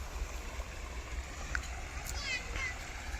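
Water pumped by an electric motor onto grass in a farm field, a steady rushing flow with a low motor rumble, alongside faint voices.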